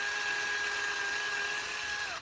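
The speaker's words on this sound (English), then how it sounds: "you feel resistance when you push the wheel onto the drill bit, stop, because you don't want to drill through this wheel" A power drill fitted with a 1/16 inch bit whines steadily at high pitch while boring into a truck wheel, holding one sustained tone for about two seconds before winding down abruptly.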